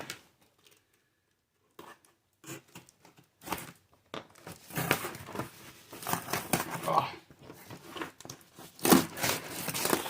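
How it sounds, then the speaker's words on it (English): Paper and plastic packaging of a mail parcel tearing and crinkling in close, irregular bursts after a quiet start, with rustling handling throughout. "I'm just going to rip this right open"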